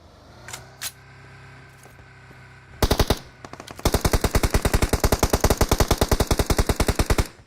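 Automatic gunfire in the PUBG Mobile video game: a short burst of rapid shots, then a long sustained run of loud, evenly spaced reports, with faint background game ambience before the firing starts.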